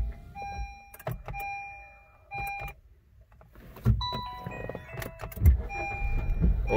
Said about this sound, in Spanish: Ok, ya lo prendí el carro.